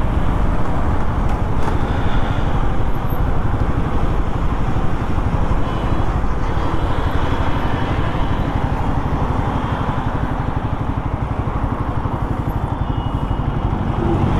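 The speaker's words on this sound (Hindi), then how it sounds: "0 to 60 का टेस्ट कर लेते हैं धीमे करके बाइक को।" Royal Enfield Guerrilla 450 motorcycle accelerating through the gears in a 0 to 60 run amid traffic, a continuous loud engine drone mixed with wind and road noise from the rider's position.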